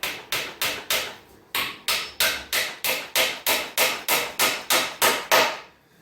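Nails are driven into a DIY wooden fireplace mantel with a hammer, about fifteen loud, evenly spaced blows with a brief pause after the first few, close and alone with no voices.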